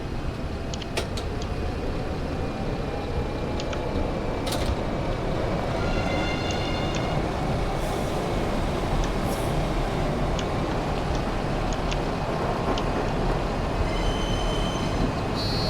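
A train rolls past in Bus Simulator 21, a steady loud rumble of rail wagons filling the whole span, with wheel squeals and high metallic ringing flickering over the top.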